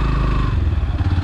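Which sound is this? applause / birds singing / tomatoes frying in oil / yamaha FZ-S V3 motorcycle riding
yamaha FZ-S V3 motorcycle riding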